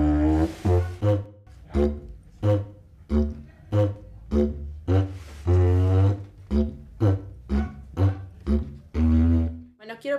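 A bass pipe a vara, an original instrument, gives deep booming plucked or struck notes in a steady rhythm, about fifteen distinct hits over ten seconds.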